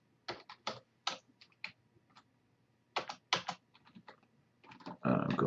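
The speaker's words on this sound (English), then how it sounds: "we're going to type in web server." Typing on a computer keyboard while entering a Linux hostname, heard as irregular bursts of close, crisp key clicks with short pauses and no talking.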